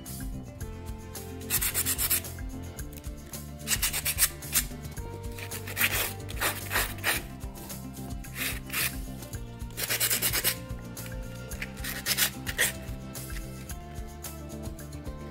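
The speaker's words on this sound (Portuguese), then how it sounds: "Esse aqui tá rachadinho também, você pode passar lixa." Cement piece being sanded by hand with 220-grit sandpaper: repeated scratchy back-and-forth rubbing strokes in an irregular rhythm, close up and steady, with no talk.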